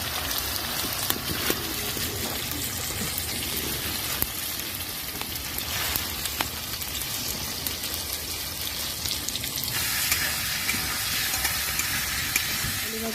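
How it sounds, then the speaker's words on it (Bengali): Potatoes frying in oil in a pan for a home-cooked dish, giving a steady, close crackling sizzle with faint scraping stirs throughout and no voices. "একটু ভালো করে আলুটা ভালো করে ভাজা হবে।"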